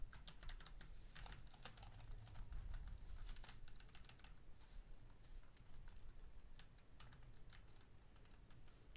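Quiet, rapid clatter of computer keyboard typing runs throughout, with bursts of crisp keystrokes and brief pauses, heard faintly with no speech.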